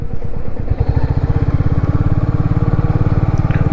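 Motorcycle engines rumble close and loud in a long mountain traffic jam near Manali in the Himalayas, a steady pulsing idle with clattering texture throughout.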